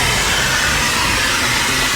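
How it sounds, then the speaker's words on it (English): A strong vacuum cleaner sucks debris from the floorboards of a Tesla Cybertruck, a loud, steady broadband roar running continuously and close up with no talk over it. "This is actually a really strong vacuum."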